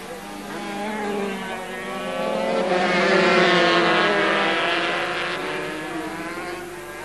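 250cc Grand Prix motorcycle racing at Donington in 1987: a pack of two-stroke bikes screams past, engine whine swelling to a loud peak mid-pass and fading away, with German race commentary talking over it.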